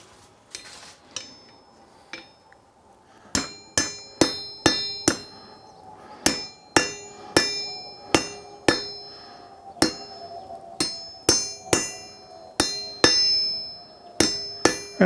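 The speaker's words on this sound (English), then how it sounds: "So we'll go ahead and take it over to the anvil and get it cleaned up." Hammer strikes ringing on an anvil while a hot branding iron is worked. Sharp metallic clangs come in quick irregular bursts, close and loud, each with a bright ringing decay.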